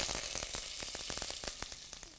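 Mustard seeds and curry leaves hit hot oil for vada pav aloo filling, giving a close, sharp sizzle with rapid popping crackles that fades slightly over two seconds.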